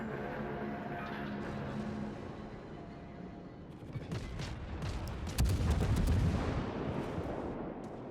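Naval gunfire from warships in World of Warships, with a French tier 8 cruiser, the Charles Martel, in battle: distant booming salvos and crackling impacts build to a heavier, louder volley.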